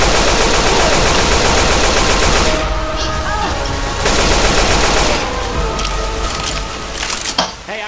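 Sustained rapid automatic gunfire aimed at a tank enemy in a cooperative shooter, loud and continuous with dense rattling bursts, thinning toward the end as a person talks briefly.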